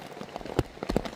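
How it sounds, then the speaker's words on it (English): Rain falls on a hooped bivvy tent, scattered close drops tapping the fabric in an irregular patter with a few louder hits. "I'm hoping this rain cools us down a bit."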